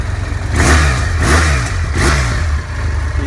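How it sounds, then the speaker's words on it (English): A fuel-injected 800cc engine of a 2015 BMW F800R motorcycle revs loudly and close up, with several rising throttle blips over a steady idle. "800cc engine runs very smoothly"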